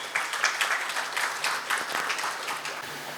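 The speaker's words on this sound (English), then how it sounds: "A big round of applause for him." An audience at a skills and entrepreneurship forum in Mumbai breaks into applause welcoming a speaker, fairly soft and distant, with a steady patter of clapping lasting about three seconds.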